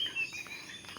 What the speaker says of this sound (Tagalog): pakinggan nyo yung huni ng ibon